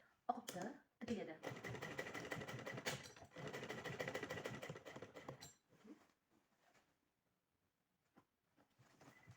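A domestic sewing machine stitches an apron in a fast steady run that stops, followed by quieter handling sounds and brief pauses.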